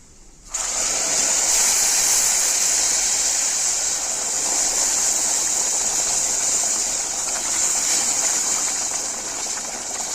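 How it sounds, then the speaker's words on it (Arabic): Broth is poured into spice-coated rice in a pot, a sudden loud steady gushing and sizzling rush that starts abruptly and continues evenly throughout, close and alone. "هضيف بقى الشرب"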